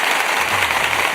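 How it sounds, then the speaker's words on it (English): Steady, dense applause from a studio audience during a Real Housewives of Potomac after show, loud and continuous throughout the short stretch with no speech over it. "Let's give some applause for"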